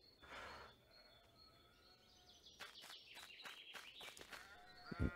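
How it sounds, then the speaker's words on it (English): Sheep bleat in the video game Scarlet Deer Inn, a few wavering calls rising out of quiet ambience, with bird-like chirps and a louder final bleat near the end. "Pet the sheep."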